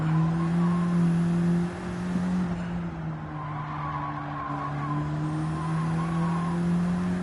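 A stock VW race car in Gran Turismo 7 drives with a steady, droning engine note that shifts slightly in pitch as it corners. Tires squeal at points along the lap, and nobody talks.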